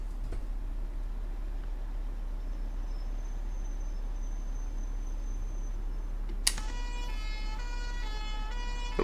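A steady low hum runs throughout, then an electronic siren in the bus-driving game OMSI 2 abruptly begins near the end as the handbrake is applied, cycling through wailing tones at moderate volume.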